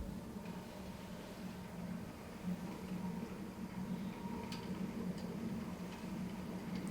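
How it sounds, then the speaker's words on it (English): Purpose-built motorized bedroom curtains closing, a steady low motor hum with a faint continuous whir and a few light ticks, fairly quiet and unbroken throughout, with no voices. "here's the sound of my purpose-built motorized bedroom curtains closing"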